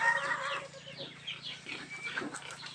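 Backyard-raised chickens cluck and call in a short farm scene, several birds sounding at moderate distance over a steady low background hum, with no talk.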